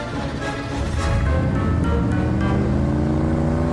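Getaway car drives off in a crime drama scene, its engine droning loudly and steadily with a rising, revving harmonic sweep, no voices.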